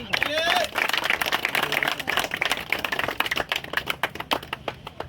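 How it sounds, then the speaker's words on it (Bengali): A crowd at a fishing competition claps enthusiastically in dense, sustained applause, with a few voices audible at the start. "ওনার জন্য একটা গ্রেট হাততালি দিন সবাই।"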